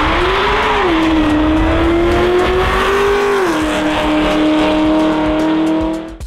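Supercharged 6.3 litre V8 HSV Clubsport R8 Tourer LSA wagon revving loudly, a deep sustained engine roar that climbs and dips in pitch twice before holding steady, then cutting off at the end.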